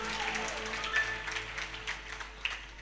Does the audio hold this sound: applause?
yes